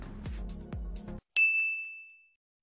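Notification bell sound effect: a couple of swooshing clicks, then one bright, clean ding that rings out and fades over about a second.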